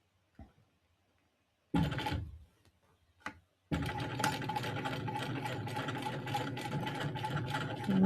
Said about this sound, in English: top stitch across that, carefully avoiding the hardware